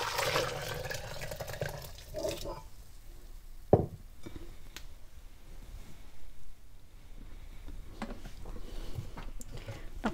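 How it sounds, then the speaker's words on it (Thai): Beetroot cooking water pours into a blender in a short watery splash at the start, then fades to quiet handling noises with a few faint knocks. "เราเอาน้ำจากที่ต้มบีรูทเทใส่ลงไปเลยค่ะใช้น้ำเดิม"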